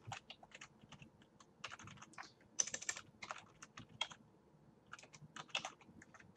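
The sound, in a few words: typing on a computer keyboard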